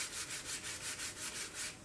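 Balsa wood parts being sanded by hand, a steady rhythmic rasping of even back-and-forth strokes, close and fairly quiet, with no voices.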